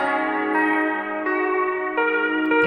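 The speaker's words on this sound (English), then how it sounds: "I also throw on this bright marimba, another Ableton instrument" Bright synthesized marimba from a software instrument plays sustained, ringing mallet notes that change pitch every second or so, clean and alone with a bell-like shimmer.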